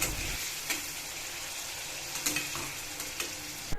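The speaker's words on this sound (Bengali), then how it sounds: "এখানে তেলটা গরম হয়ে এলে আমি চিকেনগুলোকে ছেড়ে দেবো চিকেনগুলো ভালো করে ভাজতে দিতে হবে" Chicken pieces frying in hot oil give a steady, close sizzle, with a few light clicks of a utensil stirring them around the pan.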